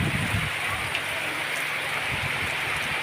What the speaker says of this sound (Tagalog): Nabutan tayo ng ulan dito mga sangkay.